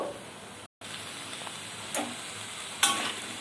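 Vegetables frying with spice paste in a pan for bhetki fish curry, a soft continuous sizzle broken by scraping stirs and a few louder crackling bursts, no talk.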